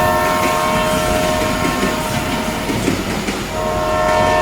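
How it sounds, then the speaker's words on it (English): A train rumbles past with loud clattering wheels and a steady blaring horn that runs through the whole passage, close and dominant, with no voices heard. "We got a train coming through the studio."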